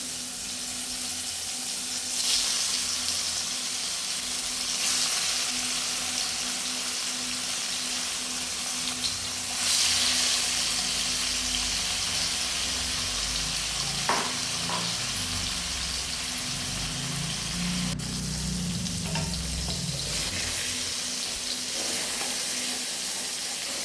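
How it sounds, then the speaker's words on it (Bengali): Paneer frying in a little oil in an iron wok gives a steady sizzle throughout, with occasional louder crackles and stirring scrapes near the middle and end. "পনিরটা ভেজে নেব এখন।"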